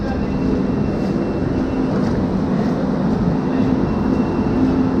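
A steady, loud rumble of a train at Chennai Central railway station fills the air, with a constant mechanical drone and faint background commotion.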